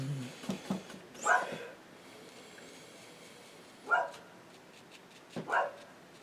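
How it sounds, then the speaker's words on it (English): Patsy the dog barks in several short separate bursts, a couple of quick yips first and then single louder barks spaced a few seconds apart, fairly close, over a quiet room. "So Patsy the dog."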